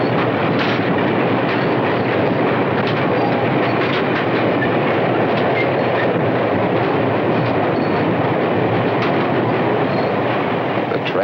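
A 1950s New York Central Railroad train rolls past close by, a loud continuous rumble with rhythmic clickety-clack of wheels over rail joints, steady throughout with no voices.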